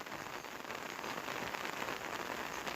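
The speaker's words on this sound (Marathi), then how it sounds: "आज पण पाऊस खूप आहे सकाळपासून एकदम काळोखच केलं आणि चालूच आहे" Heavy rain pours steadily onto surfaces outdoors, a dense, even hiss close by and unbroken throughout, with no voices.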